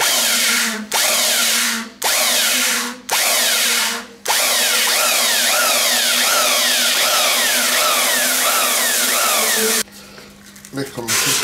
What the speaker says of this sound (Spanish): Estamos limpiando con una lija para medir. Y la lija está puesta en el bruñidor.